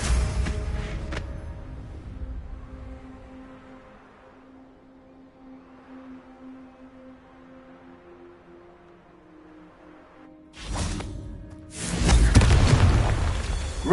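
Booming blasts from the Confringo explosion spell in Hogwarts Legacy, one at the start and a loud burst near the end, with a quieter tonal hum from the game in between.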